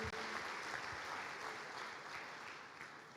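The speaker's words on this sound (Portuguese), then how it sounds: "Uma salva de palmas para os nossos líderes, glória a Deus." A church congregation applauds its leaders during a communion service, steady sustained clapping from a full room that begins abruptly and holds at an even level to the end.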